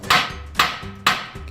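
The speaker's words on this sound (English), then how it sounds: "Give a little tap with the hammer to get things moving a bit." A hammer taps a tie rod end on a 1995 Ford E-150 during a DIY ball joint job: three sharp metallic strikes roughly half a second apart, close and loud, with no talk.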